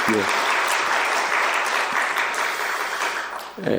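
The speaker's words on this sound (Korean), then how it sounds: "우리 할렐루야 찬양대 우리 격려의 박수로 한번 잘하셨습니다." A church congregation at a Sunday worship service applauds the choir, steady and loud clapping filling the room, fading briefly near the end as a voice begins to speak.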